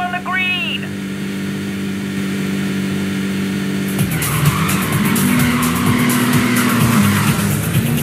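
Race cars in the video game Midnight Club 2 wait at the start line with engines idling under a short countdown of beeps, then rev hard and squeal their tires as the race begins, loud and close.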